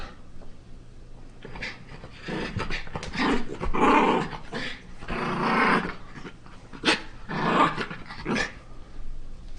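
A dog close to the camera growls low and rough in several long rumbling stretches broken by short pauses, with breathy panting between them and no talking.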